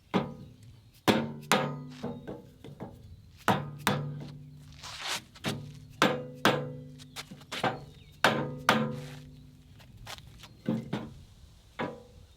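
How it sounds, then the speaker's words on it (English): Repeated solid thuds of a dead blow hammer tapping on a piece of wood, a steady series of blows with short pauses between them, close by and with no talking. "I'm going to get a dead blow hammer and a piece of wood and see if I can tap this back"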